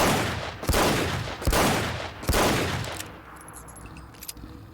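Three loud revolver shots fired at a Deathclaw in Fallout 4, spaced about a second apart, each a sharp crack trailing into a booming echo, followed by quieter clatter.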